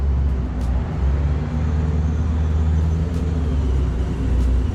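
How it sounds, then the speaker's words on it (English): A hot rod car, the chase car alongside a Hellcat Challenger, rumbles closer with a steady, loud low engine drone and road noise that swells slightly throughout, with no voices. "Here comes Crew Chief Greg in his hot rod."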